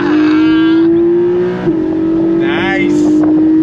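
Porsche Boxster GTS engine accelerating hard under throttle, a loud close sustained roar that rises in pitch, dips briefly at a gear change, then climbs again, while someone talks over it.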